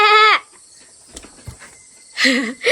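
A lamb in its new pen bleats twice, a loud wavering call at the start and another near the end, separated by a quiet stretch with faint insects and small knocks.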